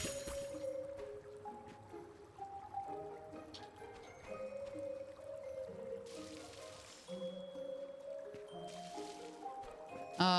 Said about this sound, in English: I can just water the whole thing with just one thing of my jug